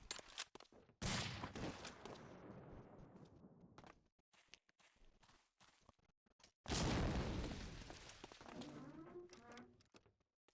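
Grenade blast in Medal of Honor Allied Assault multiplayer sniper match: a loud burst near one second, then scattered gunfire, and a second heavy explosion midway with a long noisy tail, commentary voice faintly under the game sounds.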